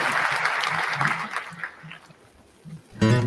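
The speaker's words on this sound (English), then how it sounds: "Let's give them all another final big round of applause." A live show audience applauds its guests with loud, dense clapping that gradually thins out, before a voice starts speaking at the end.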